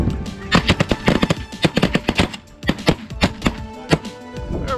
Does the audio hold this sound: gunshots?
yes